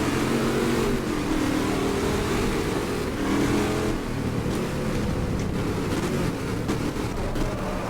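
Powerful race car engine in the racing game GT Legends, a steady loud drone with shifting pitch as the car accelerates, continuous throughout without talk.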